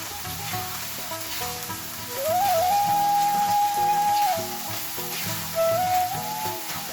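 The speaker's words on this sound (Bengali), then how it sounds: "দিয়ে এখন আমি লাড়াচাড়া করে দিব।" Soaked white pulao rice sizzles steadily as it is stirred and fried in a pan, a dense close crackle with scraping stirs and a faint whistling tone rising and fading over it, without any talking.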